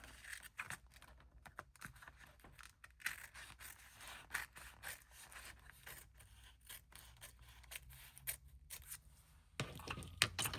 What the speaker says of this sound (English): if I accidentally cut into the page itself